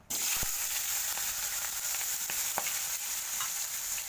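Singhi fish fry in hot oil, a loud, dense, continuous sizzle that bursts in at the start and holds steady, with faint crackles and no voices.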